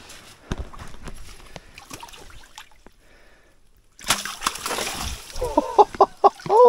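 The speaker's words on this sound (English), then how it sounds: "We're going to let this fish go." A large lake trout is let go into a Canadian lake, one sudden loud splash and sloshing water breaking in after a quieter stretch of faint background noise, with brief voices around it.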